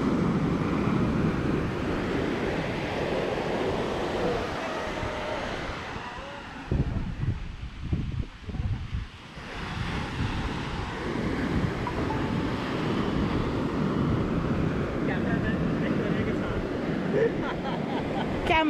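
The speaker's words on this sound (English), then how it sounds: "Just observe the sound of the waves and the wind blowing at your face." Ocean surf rolling onto Gokarna beach with steady wind buffeting the microphone, a continuous broad wash that dips briefly midway before the waves and gusts build again.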